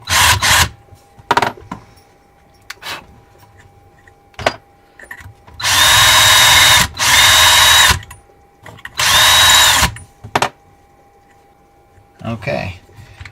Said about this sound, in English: Now we'll chamfer the inside a little bit.